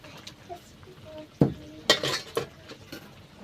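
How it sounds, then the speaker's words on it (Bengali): A spatula pushes fried eggs down into simmering gravy in a pan, giving a few sharp scraping clanks and sloshing stirs over a faint, low bubbling, close and fairly quiet. "খুন্তি করে এইভাবে ঝোলের মধ্যে ডুবিয়ে দেব।"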